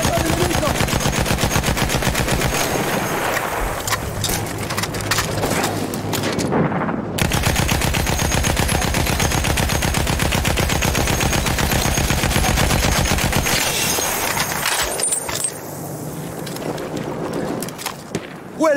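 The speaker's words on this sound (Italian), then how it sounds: "Una mitragliatrice nemica!" Enemy machine gun fire in Battlefield 1 keeps up rapid, dense bursts that run almost without a break, loud and close, with a short pause midway and a brief lull near the end.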